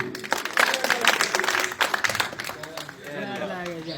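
An audience at a comedy compering and prize-giving event claps in a burst of applause that thins out, with a voice talking over it and some music near the end.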